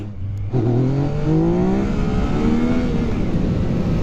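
A motorcycle engine is punched hard on the throttle for a power wheelie: after a brief idle, a sudden loud surge climbs into a rising, sustained roar, close and alone without speech.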